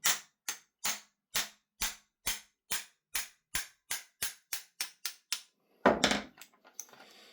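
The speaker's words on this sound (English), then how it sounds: "if the barrel nuts are stuck, is you can just tap it here with a hammer" A hammer taps the stuck barrel nut on an airsoft gas blowback rifle, about a dozen sharp metallic knocks in steady rhythm that quicken toward the end, then a louder clattering hit and some rattling handling.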